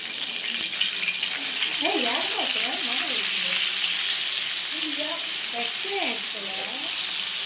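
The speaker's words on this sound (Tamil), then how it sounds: "வைகை மீன் நான் வறுக்க போகிறேன்" Vaigai fish frying in oil in a village kitchen, a steady broad sizzle holding throughout, with voices talking underneath partway through.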